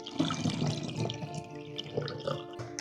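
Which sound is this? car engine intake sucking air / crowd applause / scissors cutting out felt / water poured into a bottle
water poured into a bottle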